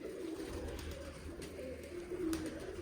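Pigeons coo in soft, steady rolling calls that repeat under a faint outdoor background hum, with no one speaking.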